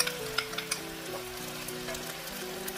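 Chopped green and red chilies sizzling in a pan with mirin, soy sauce and minced garlic, a steady close frying hiss with light stirring over soft music.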